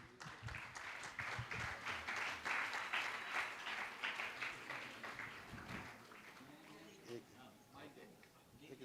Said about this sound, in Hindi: आप जोरदार ताली बजाकर उनका सम्मान करें